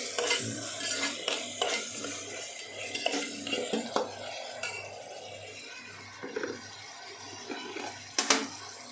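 Eggs fry in a pan for egg biryani with ginger-garlic paste, under a run of metal spoon scrapes and clinks against the cookware over a low background sizzle, the strokes irregular and close, with no talking.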